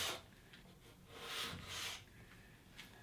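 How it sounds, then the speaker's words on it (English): A razor scraper drags across Bondo filler on pool table slate in a few firm rasping strokes, close and quiet with nobody speaking. "So grab your razor scraper."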